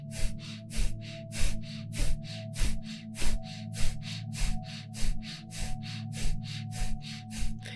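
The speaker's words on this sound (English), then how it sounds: "we'll start to speed it up like we're a little puppy panting, breathing right into our belly." Rapid, rhythmic panting breaths forced out through the nose in breath-of-fire style, like a little puppy, driven from the belly; about twenty-five short, even bursts in steady sequence, close and alone.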